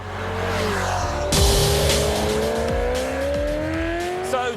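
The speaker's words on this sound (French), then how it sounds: "Je fixe un point où je veux aller et la voiture y va." A Ferrari 348 sports car drives with a steady, loud engine drone heard from close by. The engine pitch climbs smoothly as it accelerates, and a faint tire squeal rises near the end.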